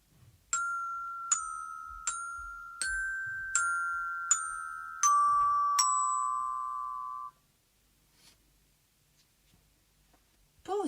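A children's carillon struck with mallets plays a slow tune of about eight clear, ringing notes, each one sustaining into the next, before the ringing fades into quiet.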